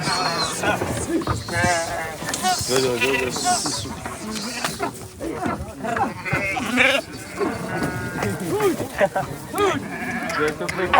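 Animals being unloaded at a cattle shelter, with old Kankrej cows among them, bleat loudly and overlapping, close by, amid shuffling and clatter, with people talking over the animals.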